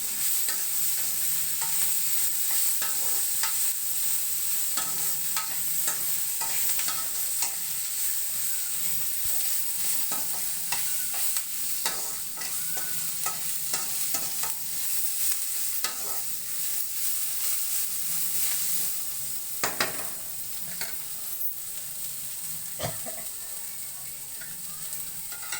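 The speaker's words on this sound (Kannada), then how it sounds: "ಕೊತ್ತಂಬರಿ, ಪುದೀನ ತೊಗೊಂಡಿದ್ನಲ್ಲ ಅದನ್ನು ಹಾಕೋತಿದ್ದೀನಿ. ನೋಡಿ, ಸ್ವಲ್ಪ ಫ್ರೈ ಆಗಬೇಕು ಸ್ವಲ್ಪ ನಮಗೆ." Coriander and mint leaves, with curry leaves, frying in a pan for cumin rice, with a steady close sizzle of hot oil and constant stirring scrapes and taps of a spoon against the pan throughout.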